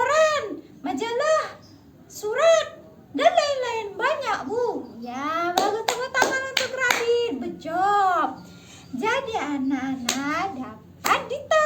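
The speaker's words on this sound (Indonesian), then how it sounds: "tepuk tangan" Preschool children clap their hands in a classroom in scattered bursts, mixed in with steady children's voices and a teacher talking throughout.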